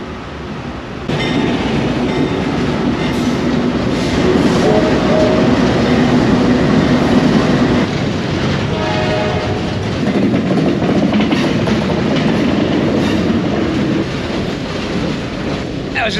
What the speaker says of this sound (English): No, I gotta wait till the end of the train.